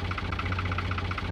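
A tractor engine in Farming Simulator 17 runs in a steady, rumbling idle with a regular pulsing throb, continuous and fairly close, with no talking.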